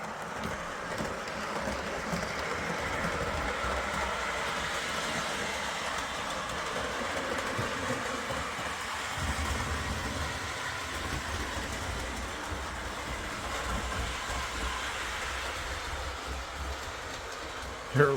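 An MTH electric model train, a heavy locomotive pulling a tender, runs on track with a steady, close, continuous rumble and faint clatter throughout, ending in a brief knock.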